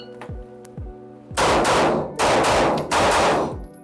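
Glock 43X pistol gunshots at an indoor shooting range: a few quick shots, then three loud bursts of rapid fire, each echoing sharply, with no talk.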